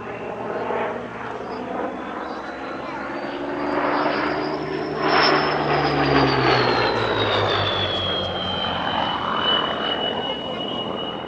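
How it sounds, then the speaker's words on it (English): A Spitfire Mark 1A warbird, Dunkirk veteran N3200, flying a display at Duxford airfield with a loud, sustained propeller-engine roar whose pitch rises and falls as it passes nearby. "a display by one of the earliest versions of the Spitfire, the Mark 1A"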